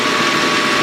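A small hoglet lathe turns at 800 RPM, parting off 7075-T651 aluminium with a 93 thou feed, giving a steady, loud, close mechanical whirr with no talk.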